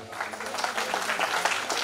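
An audience claps at the semi-final of a TV dance show on stage. A dense, continuous burst of applause, loud and close, lasting the whole moment.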